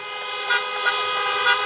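Car horns honk repeatedly at a drive-in campaign rally in Des Moines, Iowa, several sustained toots overlapping in a steady chorus, with a few louder blasts rising above the crowd of horns.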